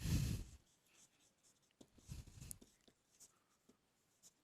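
Chalk or marker scratches and taps on a classroom board as differential equations are written out during a Class XII maths lesson, with quiet irregular strokes and knocks over a hushed room, no talk.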